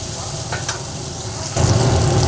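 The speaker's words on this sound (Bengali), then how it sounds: "সব দিয়ে ভালোভাবে মশলাটাকে ভেজে নিচ্ছি" Spices with coriander powder frying in a pan for an eggplant kofta curry, a steady close sizzle and crackle that grows louder and denser partway through, with no talking.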